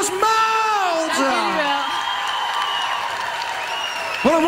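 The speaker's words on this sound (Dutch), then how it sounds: "doe even een applaus, Maud!" Concert audience applause and cheering at an acoustic live show, clapping rising under a sustained held singing voice and musical tones, with a voice coming in near the end.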